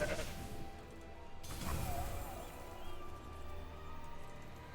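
A goat in a video card game lets out a loud wavering bleat, with a clattering crash effect and other game sounds around it.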